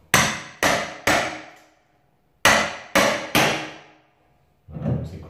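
A metal crowbar is tapped against nailed baseboards to pry them off during laminate floor preparation: six sharp, ringing knocks, three then three after a pause, loud and close, followed by a softer scrape.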